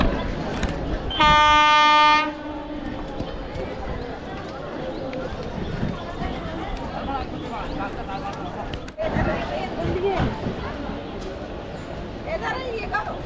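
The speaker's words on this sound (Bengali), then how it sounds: "ট্রেন চলে আসলো" A train horn blares loudly near the start, then a train rumbles and clatters steadily into Plassey railway station, with people talking in the background.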